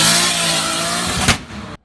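A modified car engine converted to a single turbo revs hard, a loud sustained roar close by that drops off sharply near the end.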